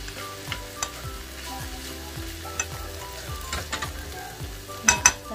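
A spoon stirs mung bean stew in a sizzling pan, giving steady frying hiss with regular scraping and clinking strokes and a couple of sharper knocks near the end.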